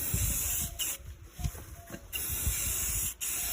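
Short bursts of hissing rust-preventive spray paint are applied in light coats to an old metal gate outdoors, several close spurts separated by brief pauses, with wind buffeting in the background.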